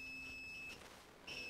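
A multimeter in continuity mode sounds a steady electronic beep while its probes touch SSD wiring on a Samsung 256GB drive, the tone cutting out briefly and then returning, heard close with no talk.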